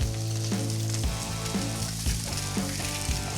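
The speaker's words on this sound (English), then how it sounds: "Once I've gotten the fish in the pan, I'm going to reduce the heat because the skin is on there." Skin-on fish fries over low heat in a non-stick pan, a steady close sizzle running the whole time under a rhythmic tonal pattern with regular beats.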